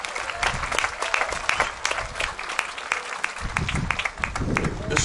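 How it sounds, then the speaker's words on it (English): A festival crowd gives a warm round of applause for the Kamehameha ohana at an outdoor Maui gathering, steady dense clapping with murmuring voices underneath throughout. "A nice round of applause for our ohana from Kamehameha."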